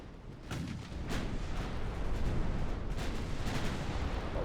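A battleship's ammunition detonating in the naval game Ultimate Admiral Dreadnoughts, a series of deep booming blasts and gunfire bursts over a rumbling battle din.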